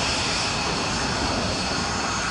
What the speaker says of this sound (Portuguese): Muitos imprevistos acontecem quando o avião ainda está taxiando na pista.